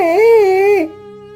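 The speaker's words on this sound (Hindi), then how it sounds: "अरे ये रोने की आवाज किसकी है?" A cartoon boy sits crying under a tree, giving one loud, close, wavering whimpering sob that trails off into a faint lingering tone.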